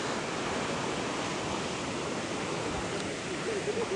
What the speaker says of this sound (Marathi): पाण्याचा प्रेशर बघा किती आहे